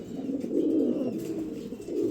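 Pigeons coo softly in low, rolling murmurs at a pigeon market, a continuous near burble with no talk over it.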